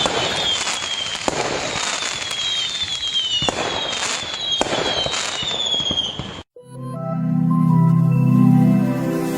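Firework rockets launch in a Diwali comedy cartoon, several rising whistles with crackling bursts in a loud, dense stretch. A short silence follows, then a sustained deep roaring blast swells and holds.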